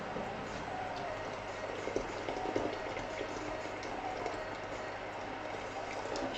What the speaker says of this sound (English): So I've got the pot about half full with water